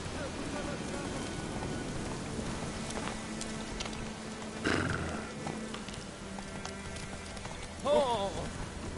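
Geralt's horse Roach gallops through The Witcher 3 game world, a steady run of hoof clatter under rain-like hiss and game ambience, with a louder thump near the middle and a rider's voice and brief shout toward the end.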